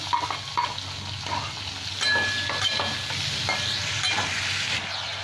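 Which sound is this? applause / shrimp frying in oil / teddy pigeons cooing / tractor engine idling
shrimp frying in oil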